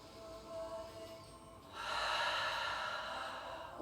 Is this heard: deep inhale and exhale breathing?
yes